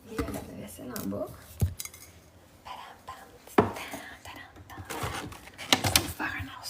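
Dishes and cutlery clink and clatter irregularly at close range while someone tidies up, with quiet murmured speech in between.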